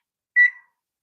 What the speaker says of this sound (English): Oh, the timer.